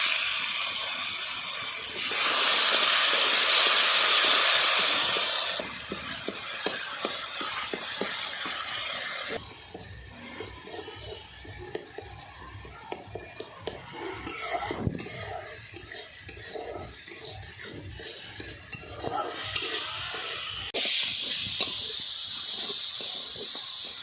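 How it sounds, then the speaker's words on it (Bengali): Spice paste with water hisses and sizzles in a pan for a Bengali tengra fish curry, a steady bubbling hiss with stirring scrapes, louder bursts early and late and softer crackle between. "জল দিয়ে কষিয়ে নিচ্ছি।"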